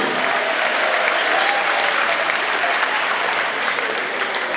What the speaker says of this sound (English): Let's hear a round of applause for David Perry.